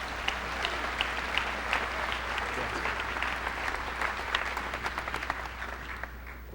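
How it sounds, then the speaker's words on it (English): An audience at a high school senior academic recognition ceremony applauds the honored students, a sustained, fairly distant wash of clapping with a few sharper nearby claps standing out toward the end. "Let's have a round of applause for all of these students."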